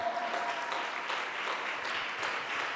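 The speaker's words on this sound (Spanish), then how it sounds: "Dale un aplauso grande al Todopoderoso." A congregation applauds during a church service, a steady wash of many hands clapping at an even loudness for nearly three seconds with no voices above it.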